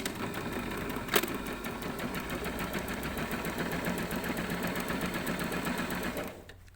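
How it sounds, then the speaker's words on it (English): A sewing machine stitches a V-neckline seam with a 1 cm seam allowance, running in a steady, close whir for about six seconds before stopping abruptly. "I'm going to stitch this with 1 centimetre seam allowance"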